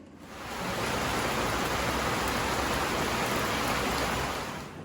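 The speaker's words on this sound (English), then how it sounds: "It's raining." Steady rain falling at a boat anchorage in the Dominican Republic, a dense even hiss that fades in, holds for several seconds and tapers off.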